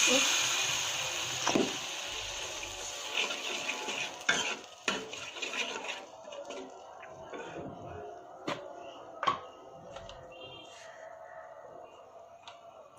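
Turmeric and chili powder are stirred and sautéed in a pan for a fish curry with tomatoes, with a soft steady sizzle and occasional spoon scrapes and taps against the pan, while a voice talks over it.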